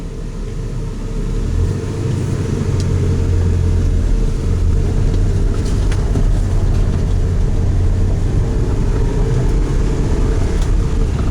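A Toyota T100 pickup with a 5-speed manual on a test drive after a speedometer cable repair, its engine and road rumble droning steadily and close throughout, with no talk.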